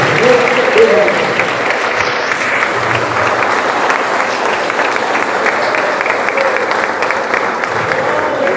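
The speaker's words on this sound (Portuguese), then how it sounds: "Se você crê nesta palavra, aplauda com alegria no nome de Jesus." Sustained applause from a church congregation during an evangelical service, a steady wash of many hands clapping at even loudness, with faint voices mixed in underneath throughout.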